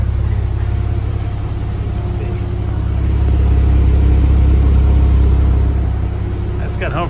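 A Porsche engine starts in a garage and settles into a steady, deep idle, its low rumble rising slightly in the middle before evening out, close and loud with a voice briefly heard near the end.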